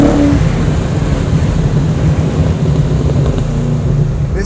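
Supercharged 1969 Camaro engine accelerating with a slightly stumbly, uneven note, a loud, steady low rumble that builds continuously through the whole stretch, heard close with no talking.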